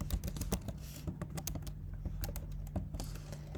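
Rapid clicking keystrokes on a computer keyboard while Django code is entered, an uneven rhythm of close, crisp taps over a low steady hum, with no speech.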